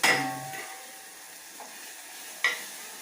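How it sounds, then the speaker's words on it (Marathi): Leftover spice masala stirred in a pan for a Konkani-style bitter field bean curry, with sharp scraping hits of the spatula at the start and again near the end over a faint sizzle, close and unvoiced. "हा उरलेला मसाला आहे आपण याच्यामध्ये परतून घेऊया चांगला"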